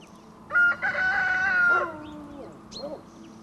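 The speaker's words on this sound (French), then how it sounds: "En patois, le chant du coq se dit chantejaille." A rooster crows once outdoors in a rural, peasant farming area, a loud drawn-out call of about a second and a half followed by a shorter, fainter cry against quiet background ambience.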